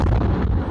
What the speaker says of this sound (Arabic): وكما تسمع دوي القصف بجوار مستشفى الشهداء الاقصى الان